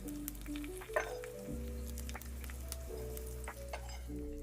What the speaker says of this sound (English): The oil is hot enough now to add the onion. Ooh, you can hear it sizzle.